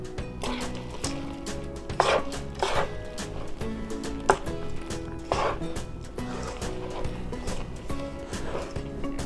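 Dough being mixed with a spoon in a kitchen bowl, with irregular thick stirring scrapes and soft knocks repeating at close range over a low background hum.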